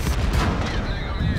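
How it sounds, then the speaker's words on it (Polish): A tank cannon fires in the online game World of Tanks from an M48A1 Patton match, a loud booming blast with rumbling tail, with a voice faintly underneath. "O, piękny teraz strzał"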